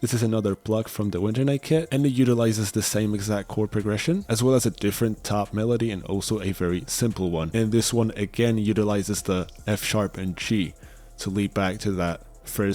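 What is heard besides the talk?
No everyday noises stand out.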